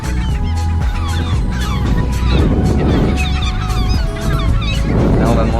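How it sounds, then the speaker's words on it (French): Thousands of birds gather on a bird island in Zealand, Denmark, and a dense chorus of geese honks loudly and continuously, with overlapping calls close by and a busy flock din underneath. "il y a des milliers d'oiseaux là."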